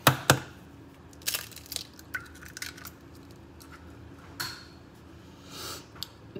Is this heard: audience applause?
no